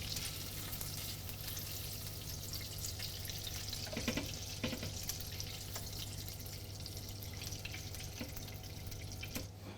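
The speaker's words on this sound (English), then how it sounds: "you want them to actually fry, get a nice bit of colour on them" Lamb meatballs fry in a pan with a steady, fairly quiet sizzle, plus a constant low hum and a few soft clinks or scrapes.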